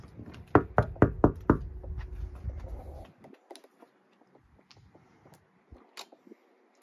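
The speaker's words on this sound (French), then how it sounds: "on va frapper. Et on va voir si on va nous ouvrir." Knocking on a small shop door, a quick burst of five or six sharp, loud raps up close, followed by quiet with faint scattered taps and distant bird calls.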